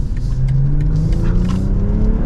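A sport sedan, an Acura TLX Type S or BMW M340i, accelerates hard in normal mode, its engine note climbing steadily as it pulls up to speed, loud and continuous throughout with road rumble underneath.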